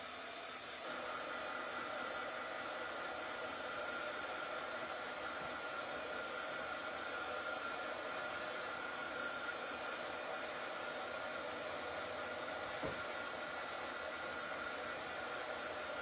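A hair dryer blows steadily on a chalk-painted witch hat, a constant airy whooshing hum that holds the same level for the whole stretch with no talking.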